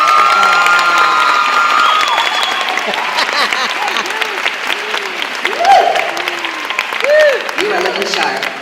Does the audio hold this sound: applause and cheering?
yes